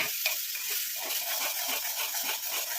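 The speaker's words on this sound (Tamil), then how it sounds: "லோ ஃப்ளேம்லேயே வச்சு நம்ம இதை கிண்டி விட்டுக்கிட்டே இருக்கணும்" Indian gooseberries stirred while frying in oil over a low flame, giving a steady soft sizzle with faint scraping strokes repeating throughout.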